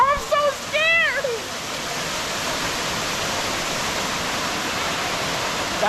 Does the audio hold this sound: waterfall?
yes